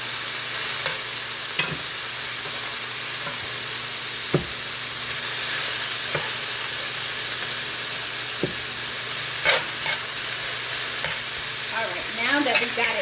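Sirloin tips fry in a hot pan with a constant loud sizzle and hiss, broken by occasional clicks and scrapes of stirring.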